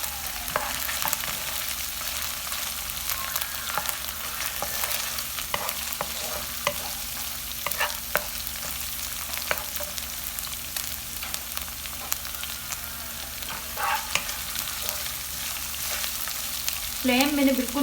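Chicken pieces with chopped green chili fry gently over a low flame for chili chicken, a continuous close sizzle with frequent scraping and stirring clicks and a brief louder clatter near the end.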